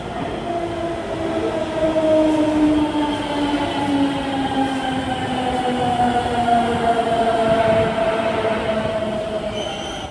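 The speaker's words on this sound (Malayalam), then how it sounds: "മെട്രോ വന്നു" A Delhi Metro train runs at a station platform with a steady loud rumble, rising and falling tonal whines from its motors and wheels sustained throughout, close by and without voices.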